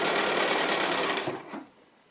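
A sewing machine runs steadily as it stitches pocket dividers straight down to the bottom, its motor whirring loudly for over a second before slowing with a couple of final thumps and stopping.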